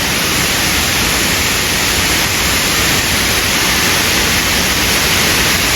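The Curug Cikondang waterfall in southern Cianjur pours down as a heavy torrent, a loud, unbroken roar of rushing water with no voices over it.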